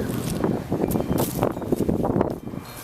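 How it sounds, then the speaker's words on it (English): Strong wind roars and gusts against the microphone, a dense, fluctuating rush with low buffeting throughout. "It's just too windy."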